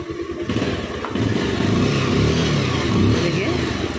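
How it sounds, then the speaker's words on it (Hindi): A Bajaj Pulser 150 cc BS3 motorcycle with a battery charging fault starts up and settles into a steady, loud idle, its engine note rumbling continuously close by with a faint clatter. "आपको बाइक स्टार्ट करो।"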